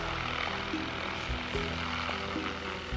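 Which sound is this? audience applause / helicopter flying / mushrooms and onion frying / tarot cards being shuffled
helicopter flying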